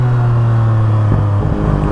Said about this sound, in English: I hope the audio is picking up the pops and bangs, but they sound so cool.